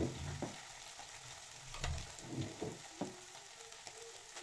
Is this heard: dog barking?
no